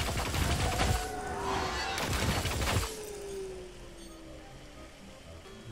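Rapid, crackling gunfire from the MUL-T character in Risk of Rain 2 fires in dense bursts for a few seconds, then gives way to quieter game ambience.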